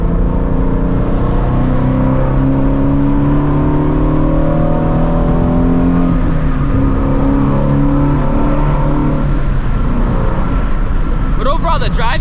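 Ford Mustang Shelby GT350 pulling hard from inside the cabin, engine note climbing and dropping through gear changes and downshifts over several seconds, loud and steady with a brief high squeal near the end.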